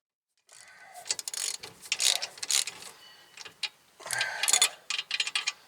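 Ratchet backing out the last bolt on a rusty rear hub of a 2015 Buick Enclave, a series of quick clicking bursts in uneven runs with short pauses, close and clear.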